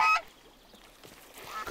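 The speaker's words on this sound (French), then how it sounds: "Bing, c'est pas un canard, c'est une oie." A cartoon goose gives a brief honk at the start, then quiet follows with faint rustling and a small rising squeak near the end.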